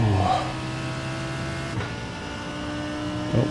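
GT3 race car engine in the iRacing sim holding a steady, buzzing tone at moderate level, with a brief louder burst at the start and end.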